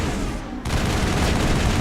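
Dense gunfire in the video game Mass Effect, a continuous loud barrage that builds after a brief lull, close and sustained with no talk over it.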